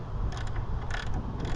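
Ratchet with a 12mm socket loosening the alternator tension adjusting bolt on a 2009 Toyota Corolla; close, fast mechanical clicking under a muffled grinding hum, very brief.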